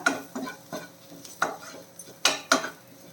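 Spice powders stirred in a pan for a shallot and prawn roast: a steady series of scraping strokes, about eight in three seconds, with brighter clinks of spoon against metal near the end, close and alone.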